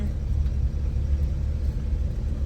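A car climbs a gentle slope in Kuravilangad, Kottayam, with a steady low engine rumble under light throttle that stays even and close throughout, with no talk.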